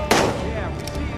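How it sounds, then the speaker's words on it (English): Gunfire in the video game Days Gone, a single sharp loud shot at the start trailing into a short echoing tail. "Yeah, we see you got guns, guys. Stop shooting!"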